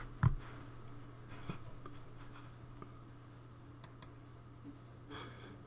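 Scattered, faint computer mouse clicks from someone browsing film-emulation presets in photo-editing software, isolated taps spaced seconds apart over a quiet room hum.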